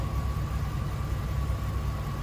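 A Ford 5.4L 3V Triton V8, fresh from a timing repair with new coolant and oil, idles in a smooth, even rumble with a thin whine riding above, steady and unchanging.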